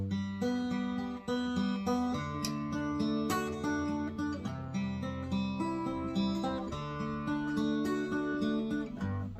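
Finger-picked guitar plays a steady arpeggiated pattern of plucked notes ringing out clearly and continuously with no talking over it.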